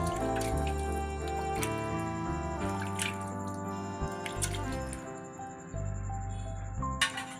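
Water is sprinkled by hand onto a cloth holding dried boiled-rice vathal, giving soft drips and patters close by over a steady background hum.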